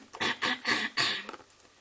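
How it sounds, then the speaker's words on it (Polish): A person clears their throat in four quick, harsh bursts close by, followed by a few faint trailing sounds. "Pierwszy etap to jest chrząkanie."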